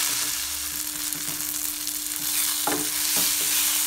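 Drumstick leaves sautéed and stirred in a pan for murungai keerai kootu, giving a loud, steady close-up sizzle with a few scraping stirs toward the end.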